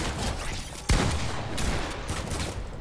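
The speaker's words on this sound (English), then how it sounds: "Oh, got sniped." A single sharp sniper rifle shot cracks out in the Fortnite battle royale game, standing loud above a steady busy background of game noise.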